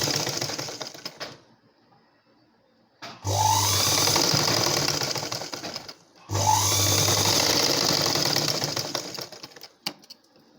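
An electric sewing machine stitches a blouse from the shoulder in two bursts of rapid, even needle clatter of about three seconds each, separated by short pauses, close and fairly loud.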